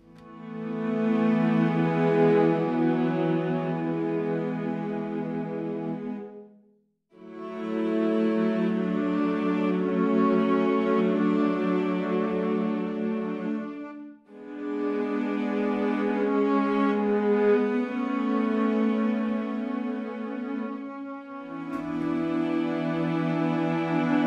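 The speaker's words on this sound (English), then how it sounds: "I was using the Super Sultasto Strings variation, and it sounds like this." A Spitfire Super Sul Tasto strings patch plays a slow cue of warm, soft, sustained string chords. Three long swelling phrases are separated by brief pauses, with no speech.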